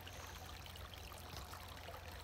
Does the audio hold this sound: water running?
yes